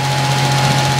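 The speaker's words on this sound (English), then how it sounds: "it goes into our engine. Our engine here has a Woodward" A biogas-fuelled experimental engine with a Woodward throttle assembly runs at a steady idle, giving a continuous, even, close-up hum and rumble with no pauses.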